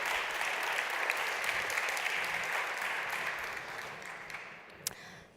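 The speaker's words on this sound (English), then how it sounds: "Please give a big, big round of applause." An audience at a talk on deep learning in natural language processing breaks into sustained applause for the speaker, a dense, even clatter of many hands that gradually thins and fades, with one sharper clap near the end.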